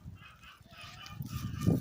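Domestic fowl in a yard make faint honking, clucking calls that grow louder toward the end, heard at a distance over quiet outdoor background.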